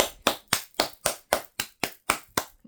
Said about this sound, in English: and then we clap